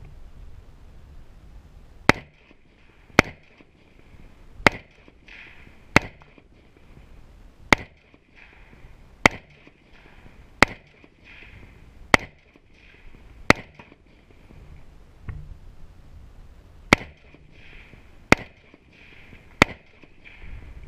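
Shotgun slugs fired outdoors in a steady series of sharp, loud reports about one to two seconds apart, each followed by a brief ringing echo, with a short pause partway through.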